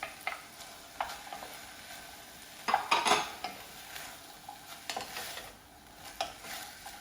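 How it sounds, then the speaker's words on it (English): Asparagus added to a pan of gently softened onions for risotto, with a low steady sizzle, soft stirring scrapes and a brief cluster of louder clatter as the pieces go in. "at this point I'm going to go ahead and add in my asparagus"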